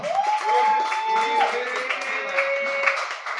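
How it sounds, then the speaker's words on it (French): Audience applause and crowd noise at a mixed martial arts event in Quebec, a steady wash of clapping with an announcer's voice carrying over it and some sustained tones in the mix. "On applaudit bien fort Alexandre Bouchard."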